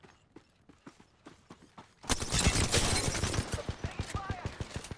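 Video game gunfire in Apex Legends: a soft string of ticking footsteps gives way to a dense, loud burst of rapid automatic fire that tapers into spaced shots.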